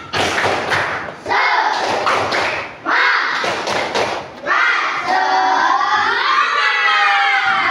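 Schoolchildren in an Indonesian classroom perform a rhythmic spirit clap, loud bursts of claps and thumps mixed with shouted voices. The bursts come in separate groups, and a sustained group chant follows.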